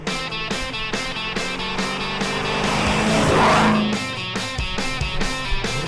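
A 1972 Dodge Charger SE pulling away, its engine revving loudly in a sustained rising and falling roar, close and prominent throughout.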